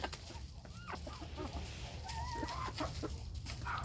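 A hurt rooster named Upchurch clucks softly among hens while being fed apples, with scattered short clucks and chirps over a low background rumble.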